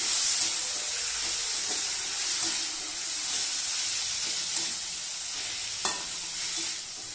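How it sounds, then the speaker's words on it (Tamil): Cleaned small dried fish sautéing in a pan for kunji karuvattu thokku, a steady loud sizzle and hiss with occasional stirring scrapes and clicks, no talking. "இப்ப நம்ம சுத்தம் செய்து வச்சிருந்த கருவாட்டை சேர்த்துக்கலாங்க. இது கூடவே சேர்த்து நல்லா வதக்கி விட்டுக்கலாம்."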